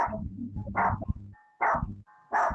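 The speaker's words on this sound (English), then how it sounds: "My dog who never barks. Wow, I've never heard him go off like that before." A dog barks loudly and close by, three or four sharp barks in quick succession with short whining tones between them, no talking.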